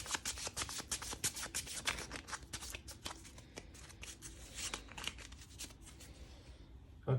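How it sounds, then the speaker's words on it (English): A deck of cards is shuffled repeatedly up close, a run of rapid papery riffles and flicks lasting several seconds, with no voices. "Let's just shuffle these again."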